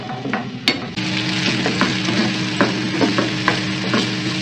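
Sliced onions frying in a pan for okra, a continuous sizzle broken by repeated scraping strokes of a spoon stirring them, close and clear.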